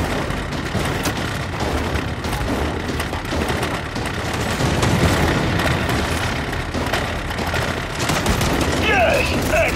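Rapid gunfire from the video game Gears 5 rattles on continuously in dense bursts with booming impacts, loud and close throughout, while a voice talks over the shooting.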